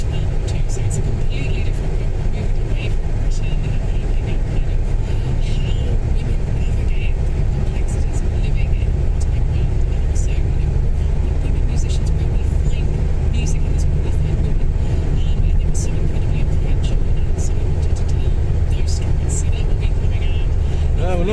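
A classic car drives along a road, its engine and road noise a steady, loud drone throughout, with people talking over it.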